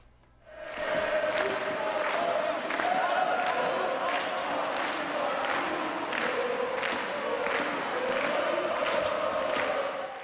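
A basketball crowd cheering at a Mogi das Cruzes home game against Suzano, a loud, sustained roar of many voices rising suddenly and holding steady, with rhythmic chanting pulses and possible ball bounces underneath.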